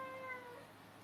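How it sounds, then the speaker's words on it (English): A cat gives a single drawn-out meow that slides downward in pitch and fades, fairly near, with no talking. "That's my cat."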